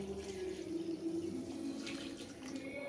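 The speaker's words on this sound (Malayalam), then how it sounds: "ഇനി ഇതിലേക്ക് ആവശ്യമായ വെള്ളം ഒഴിച്ച് നമുക്ക് അരി നന്നായിട്ടൊന്ന് കുതിർത്തിയെടുക്കണം" Water pours over washed rice to soak it, a steady, close trickling stream with a faint tonal ring as the vessel fills, and no talk.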